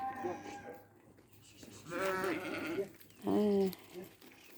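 Sheep on a farm bleat in two or three loud, wavering calls close by, with quieter background noise and some human voices around them.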